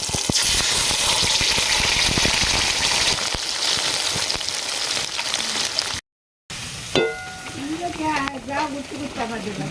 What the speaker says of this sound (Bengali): থোড়ের পেস্টটা আমরা তেলে দিয়ে দিলাম।